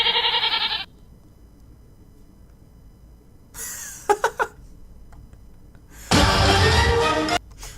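A cartoon goat bleats in an animated fable about a fox and a well: a brief tonal cry opens, a rough, shaky bleat follows midway, and a loud, drawn-out bleat near the end stands out clearly, with no talk.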